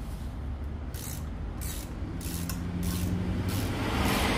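A wrench works loose the bolts on a Mazda Carol 360, a repeated rhythmic ratcheting rasp of about seven strokes over steady garage background, close and fairly loud with no talk.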